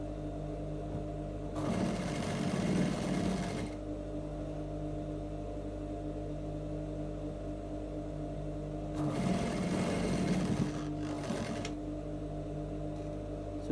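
Domestic sewing machine stitching dark trouser fabric: two close bursts of rapid mechanical chatter, each about two seconds long, separated by a quiet pause, with a low steady hum underneath.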